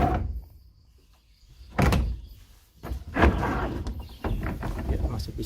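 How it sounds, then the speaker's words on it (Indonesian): The sliding door of an old, badly damaged train carriage is slid along its track, giving several rumbling thunks and scrapes at close range with a voice in the background. "Dan ini masih ada pintu gesernya."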